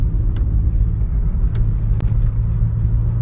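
A VW Passat B5 SDI diesel engine runs at full throttle without any turbo boost. It makes a heavy, steady low rumble that stays loud and close, with a few faint clicks and no speech.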